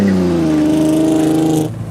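A car engine revs hard, loud and close, its rising harmonic whine held steady for about a second and a half before cutting off abruptly, with no talking over it.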